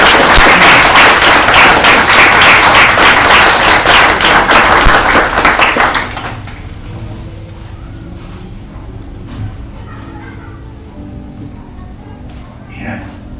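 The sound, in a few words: congregation clapping hands for God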